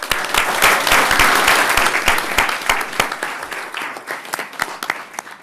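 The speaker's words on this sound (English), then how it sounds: "let's give him a round of applause." A school board audience in Sacramento applauds, a steady wash of many hands clapping that starts full and loud, then thins gradually toward the end, with no talk over it.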